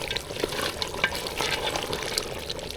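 Chinese duck meat cooking in a clay pot is stirred, giving a steady broadband sizzle with scattered scraping clicks and soft liquid bubbling, close and continuous with no talk.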